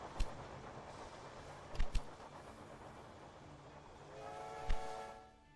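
Train running in the strategy game Railway Empire 2, a low steady rolling rumble under a soft melodic game score, with a few sharp clicks and a whistle-like tone swelling near the end.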